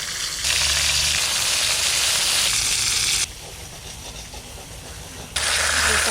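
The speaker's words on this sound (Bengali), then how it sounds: "চার পিস চার পিস করে ভাজা করছি" Four pieces of large pomfret (diamond chanda) sea fish frying in hot oil give a loud, dense sizzle that drops quieter for a couple of seconds before surging again, close by and without talk.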